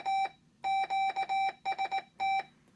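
A CW keyer sidetone sounds at 770 hertz, a clean pure beep keyed in a short sequence of longer and shorter tones with brief gaps, heard alone and fairly close.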